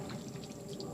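Water poured over a sloped keyline terrain model, trickling and splashing in a soft continuous stream that runs steadily throughout, fairly quiet and close.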